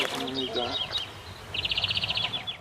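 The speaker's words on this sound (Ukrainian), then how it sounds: "Лише птахи співають, як несамовиті." Birds chirping and trilling nearby, with a rapid repeated trill toward the end over a soft background hum.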